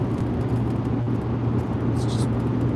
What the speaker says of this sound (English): I'm seeing all these classic cars rolling around